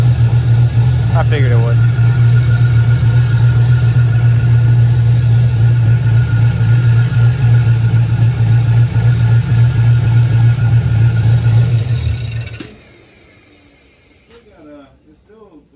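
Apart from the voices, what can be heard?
car engine running on a dyno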